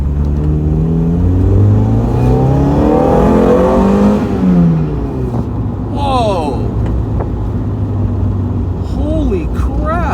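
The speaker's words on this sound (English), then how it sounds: "That was about half throttle in first gear." A Mazda Miata with aftermarket fuel injection accelerates at half throttle in first gear, engine pitch climbing loudly then dropping as it shifts, followed by steady driving with a voice talking over it.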